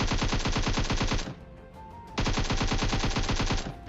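Gunfire in the PUBG video game, two loud rapid automatic bursts separated by a short pause, each a dense string of sharp shots at close range.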